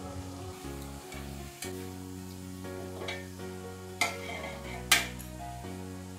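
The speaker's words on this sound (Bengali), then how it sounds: "কড়াটা ছোট, তাই অল্প অল্প করে দিয়ে এটা আমি ভেজে নিচ্ছি।" Dhoka lentil cakes fry in a small wok, a soft continuous sizzle under a low hum, punctuated by a few clinks and sharp taps of a utensil against the metal pan.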